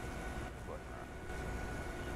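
Farm feeder hydraulics in a farming video game give off a steady jet-turbine-like whine and rumble, continuous and moderately loud through the short stretch, with broadband hiss across the top.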